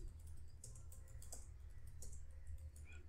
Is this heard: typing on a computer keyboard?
yes